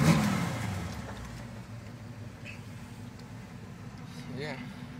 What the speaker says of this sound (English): We're running about 50 pounds of pressure